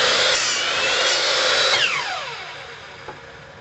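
A power saw cuts a piece for a telescope optic grinding stand: a loud, close whine runs steadily, then the blade spins down with a falling pitch and fades.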